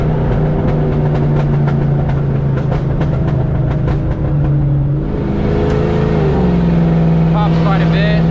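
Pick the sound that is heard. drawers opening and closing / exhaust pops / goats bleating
exhaust pops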